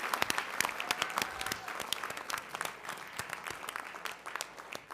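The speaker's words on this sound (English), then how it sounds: "how about one more rousing round of applause for all of our students who received the recognition tonight" Board of education meeting audience applauds students receiving recognition, a steady round of clapping with scattered sharp claps running throughout.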